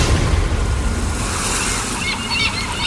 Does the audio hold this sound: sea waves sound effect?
yes